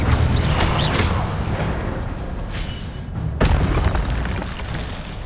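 Incendio fire spell cast in the Hogwarts Legacy video game, a loud burst of roaring flame and booming whooshes with sharp pops, sustained and dense, alone without talk.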